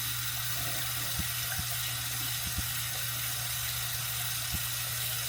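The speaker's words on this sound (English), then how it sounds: "This is the faucet." Hot water running from a hotel bathroom faucet in a Las Vegas casino hotel, a faint steady hiss of flowing water with a low hum and a few soft clicks.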